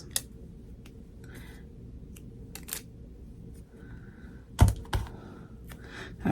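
Masking tape is handled up close, producing scattered crinkles, small clicks and a couple of sharper tearing or peeling snaps over a quiet background.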